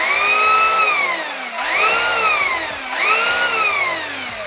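Tamiya TT-02 RC car's brushed motor revving in three rising and falling whines, loud and close, each spin-up sweeping up then easing off with a smooth electric hum.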